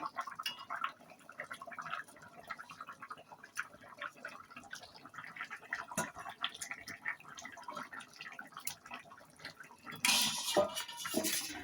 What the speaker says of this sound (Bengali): তো এইবারে আমি মাছগুলো ছেড়ে দেবো।